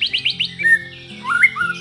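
A white-rumped shama (murai batu) in moult sings close and clear: a quick run of four sharp rising chirps, then sliding whistled notes after a short pause.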